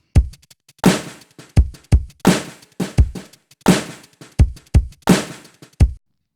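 A punchy, sparse beat with only the mid channel soloed through the bx_solo plugin: hard thumping hits with short decays, narrow and centered, in an uneven rhythm that cuts off near the end.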